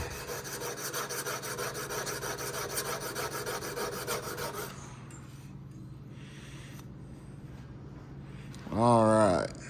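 A plane maker's chisel bevel being sharpened in small circles on a stone, a steady gritty rasping that runs for several seconds then stops, followed by quieter handling sounds and a brief squeaky scrape near the end.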